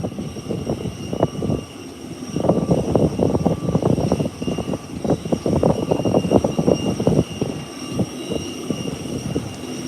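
An airliner taking off down the runway at Howard Hamilton International Airport, a rising, rumbling engine roar that swells and stays strong through the middle before easing slightly, heard alone without talk.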